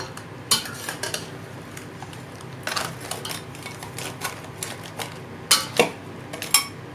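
A Kerala-style crab curry is stirred in a pot, with a spoon clinking and scraping against the metal in scattered bursts over a faint low hum, close by and without speech.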